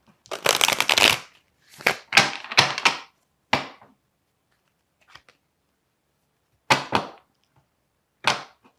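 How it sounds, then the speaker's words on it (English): Tarot cards are shuffled in a long rapid riffle, then in several shorter bursts and a few isolated snaps with quiet gaps between, close and crisp with no talk. "But I want to pull another card here."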